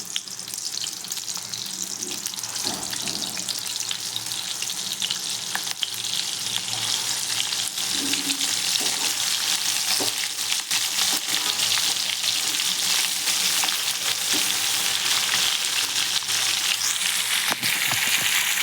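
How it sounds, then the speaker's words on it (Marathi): Stuffed brinjals fry in hot oil with tomato, producing a dense, steady crackling sizzle that runs throughout at a constant level, with occasional clinks and stirring noises. "आता वांगे सोडूया आपण."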